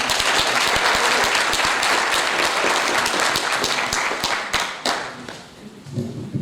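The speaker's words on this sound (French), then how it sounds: "On applaudit encore une fois le plus." Loud applause from a crowd at a public ceremony, dense clapping that carries for several seconds before thinning out into scattered claps and then fading.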